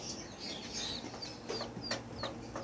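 Young chicks in a homemade manual brooder give repeated high, thin peeps and chirps, scattered in quick bursts over a steady low hum, fairly close and moderately loud with no talking.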